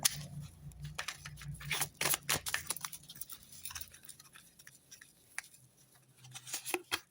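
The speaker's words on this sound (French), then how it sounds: "On va prendre 3 cartes." Tarot cards are drawn close up as crisp paper slides, flicks and snaps, irregular and moderately quiet, over a low background hum.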